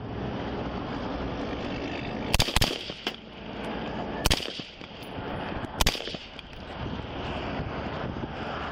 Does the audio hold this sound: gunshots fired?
yes